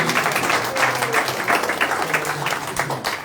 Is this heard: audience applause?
yes